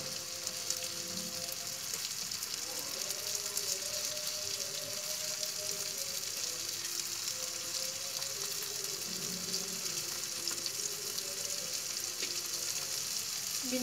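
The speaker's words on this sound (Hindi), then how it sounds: "भिंडियों को फ्राई करेंगे।" Okra (bhindi) frying in a pan, a faint continuous sizzle with soft irregular crackles throughout.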